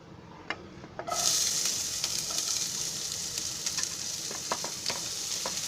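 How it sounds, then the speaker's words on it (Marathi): Onion goes into oil in a pan. A soft fry jumps to a loud sizzle after about a second, then settles into steady frying with occasional stirring clicks, all close up and without speech. "थोडं तेल टाकते भाजायला. हा पहिला कांदा टाकते."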